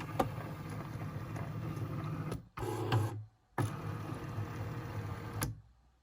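A Cricut Maker 3 cutting machine powering on, a close whirring motor hum with faint ticks that stops briefly, resumes with a short louder movement, then runs steadily before fading out.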